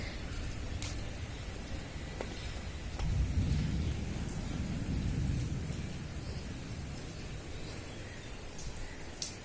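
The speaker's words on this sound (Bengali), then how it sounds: "অনেক জোরে জোরে বাজ পড়তেছে" Thunder rolls during a rainstorm heard from a rooftop, a low rumble swelling in the middle over the steady hiss of rain, with scattered raindrop taps.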